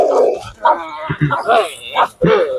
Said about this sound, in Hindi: ओह, कुत्ता मुझे देख के तो बिफर गया।